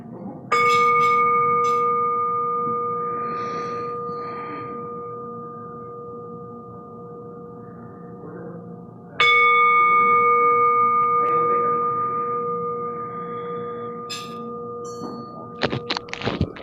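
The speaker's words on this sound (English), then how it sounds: "our 3 ring of the bell and a moment of silence" A memorial bell is struck with clear, ringing tones that hang and slowly fade over several seconds before the next strike, ending with a few soft knocks in otherwise quiet surroundings.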